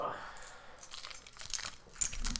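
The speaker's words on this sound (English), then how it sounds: "Here's my keys, the bottle opener." Keys used as a bottle opener jangle and clink near a microphone, with a few sharp metallic taps and rattles toward the end, fairly quiet.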